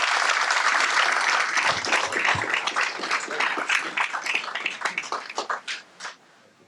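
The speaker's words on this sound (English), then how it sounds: "So please give them a round of applause." School board meeting audience gives a round of applause for a high school golf team, a dense wash of clapping that gradually thins into scattered claps and stops near the end.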